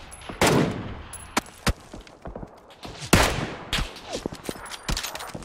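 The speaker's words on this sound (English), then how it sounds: "We're also getting shot, I think," Gunfire in PUBG on Erangel: sharp, loud shots in uneven bursts and single cracks, some close and some more distant, spread through the whole stretch with no talk over it.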